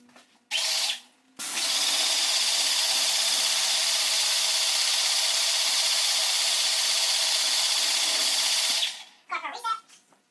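A steady, loud water spray rinses a car panel coated with wax and sealant, running for about seven seconds without a break after a couple of short opening bursts, with brief faint sounds at the end.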